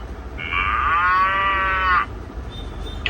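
A children's talking toy plays a recorded cow moo, a single loud, drawn-out electronic low about one and a half seconds long, followed by a quieter pause and a brief clipped start of another sound.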